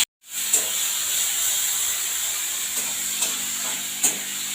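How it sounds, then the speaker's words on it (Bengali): Salted fish, shrimp and fish oil fry together in a pan, giving a steady, close, bright hiss that starts abruptly after a brief silence, with a few faint ticks and pops scattered through it. "নোনা মাছ এবং মাছের তেল ছিল সবগুলো একসঙ্গে আমি ভেজে নেব"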